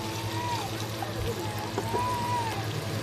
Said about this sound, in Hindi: अभी इसमें मैं पानी ऐड करूँगी।